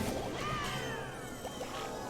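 A monolith shattering in a mobile strategy game, a short crashing smash layered with bright, swirling whooshes and ringing tones that fade over about two seconds.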